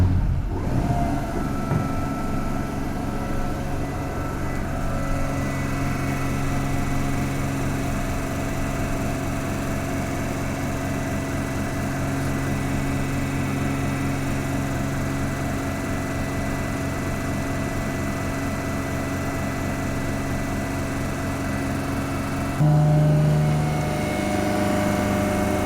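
An electric machine on a laboratory test bench running steadily at about 1500 RPM, giving a constant, loud motor hum with sustained tones that shifts slightly near the end; no talking.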